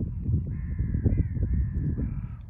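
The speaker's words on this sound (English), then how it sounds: "It's that bird." A crow caws in a drawn-out, harsh call, heard over a loud low rumble of nearby movement or handling noise.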